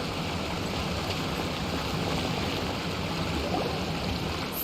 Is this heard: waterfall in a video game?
yes